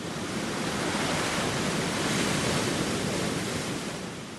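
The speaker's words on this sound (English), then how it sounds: "Up ahead was the most magnificent waterfall." Murchison Falls on the Nile roaring, a continuous broad rushing of falling water, steady and loud with a slight swell midway, no voices.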